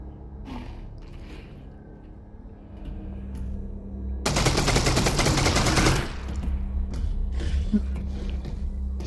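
A burst of rapid gunshots in the VR game Half-Life: Alyx lasting about two seconds, loud and close over quieter game ambience that continues afterward.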